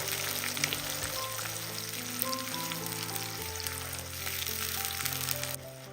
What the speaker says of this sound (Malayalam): നമ്മൾ അരച്ച് വെച്ച നെല്ലിക്കയുടെ പേസ്റ്റ് ഇതിലേക്ക് കൊടുക്കാം ഒന്ന് ഇളക്കി കൊടുക്കാം